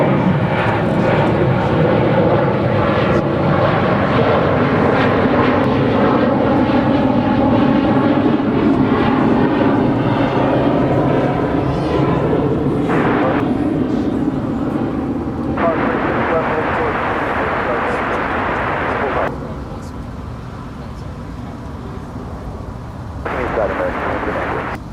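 A Boeing 737-800 jet touching down on runway 36 left at Dallas-Fort Worth International Airport, a loud, sustained engine roar that slowly fades and drops in level near the end, with talk over it.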